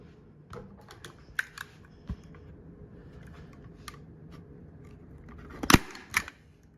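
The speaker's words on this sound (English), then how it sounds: "do some folding and stapling." Upholstery fabric is stapled onto a plywood seat for a 1949 Jeep CJ3A, with scattered sharp clicks and one loud, close snap near the end over quiet background.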